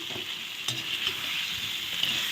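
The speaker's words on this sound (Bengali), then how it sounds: "ভেজে রাখা ফুলকপি আর সে আলু দিয়ে দিলাম" Cauliflower florets and potatoes, already fried, sizzle steadily in a hot pan with oil, a continuous bright crackle with a few soft stirring knocks.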